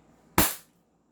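Action Army AAP-01 Shinobi airsoft pistol fired once during a chrono test, a single sharp, close crack that decays quickly into silence.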